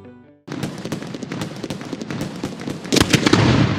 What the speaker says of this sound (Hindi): ये लो लक्ष्मी बॉम्ब। जब ये चलता है तो कुछ और नहीं सुनाई देता